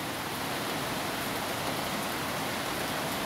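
Sudden afternoon rain pours down in a dense, unbroken hiss, steady and loud from start to finish with no voices.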